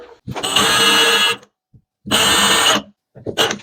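Power drill driving a 3/16 inch bit while mounting a ceiling drying rack: two loud, steady whirring bursts of about a second each, close up, then a short third burst.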